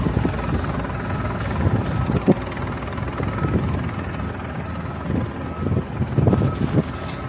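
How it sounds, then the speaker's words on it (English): A news helicopter hovers over the site where a JCPenney building in Orange, California is being demolished, a steady rotor drone mixed with wind buffeting and low rumbling thumps, fairly loud and continuous. "Saw the helicopter stop."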